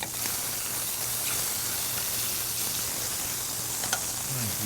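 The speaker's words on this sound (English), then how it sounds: "Now I'm going to add some shrimp to the dish." Large white shrimp hit a hot pan and sizzle steadily, a constant close frying hiss with a low hum beneath and no talking.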